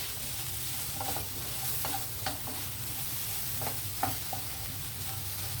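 Ground spices including pepper, cumin and coriander powder stirred into vegetables sizzling in a pan for Indian-style macaroni, with a soft steady sizzle broken by repeated scraping strokes of the spoon.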